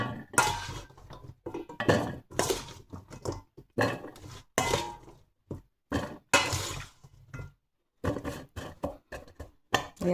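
Cauliflower pieces are handled into an air fryer basket in a home kitchen, with a series of sharp clattering knocks and metallic scrapes coming in irregular bursts, close and fairly loud, separated by short silences.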